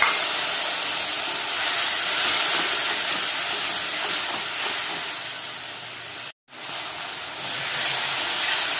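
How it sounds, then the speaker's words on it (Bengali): Potatoes frying with cumin, coriander and chilli powder, salt, turmeric and a little sugar in hot oil, giving a steady loud hissing sizzle that runs throughout, broken by one brief gap near the end. "দিয়ে আমি মশলা দিয়ে এখন ভালো করে কষাবো"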